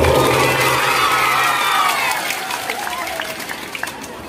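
Students clapping and cheering at an academy gathering, a loud burst of applause mixed with shouts and whoops that gradually thins into scattered claps and voices.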